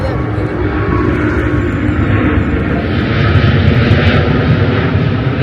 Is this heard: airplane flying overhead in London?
yes